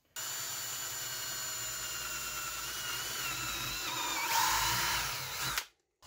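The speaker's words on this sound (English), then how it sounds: "That's where my drill bit's gonna go 4 times." A power drill whirs steadily for several seconds, close and loud, its pitch shifting slightly as it bites into wood while drilling holes for a bird feeder, before stopping abruptly.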